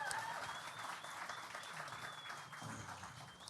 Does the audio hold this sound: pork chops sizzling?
no